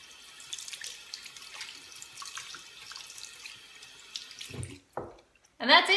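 A makeup brush cleaned with activated charcoal is rinsed under a running tap, a steady close trickle of water with light splashing, then a brief stop and a louder gush of water.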